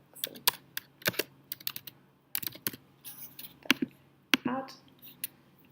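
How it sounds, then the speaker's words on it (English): Typing on a computer keyboard while entering a name into a schools database, with irregular bursts of sharp, close key clicks separated by short pauses, heard alone. "So type in Jim Poxon."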